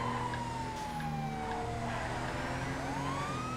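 A police car siren wails in GTA FiveM, a long steady tone sliding down, then a rising whoop near the end, over a constant engine drone with no talking.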